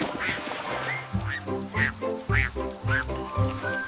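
Repeated duck quacks, several in a row, ring out over a bouncy nursery-rhyme musical backing.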